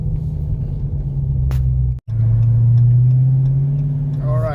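A 2021 Dodge Charger Hellcat Widebody fitted with a JLT cold air intake rumbles at a low, steady idle, then swells slightly into a held rev with a faint rising whine near the end.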